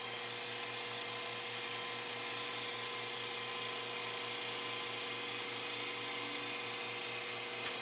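A bowl gouge makes a steady planing cut along spinning wood on a lathe, giving a continuous, even whirring hum with a faint rhythmic pulse, close and alone for the whole stretch.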